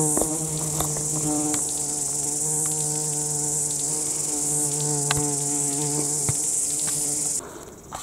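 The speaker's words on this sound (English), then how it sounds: "Some kind of native bee doing its thing." Along a bush track on Great Barrier Island, a native bee digging a hole gives a steady, close insect buzz that holds for several seconds with a bright whine above it, then drops away abruptly near the end.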